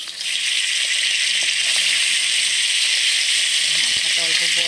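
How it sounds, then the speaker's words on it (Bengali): A fish rubbed with turmeric, salt and chili powder sizzles in hot mustard oil, a loud continuous hiss that stays steady from start to finish, with faint clinks beneath. "এখন সরষের তেল দিয়ে আমি মাছটা ভেজে নিব।"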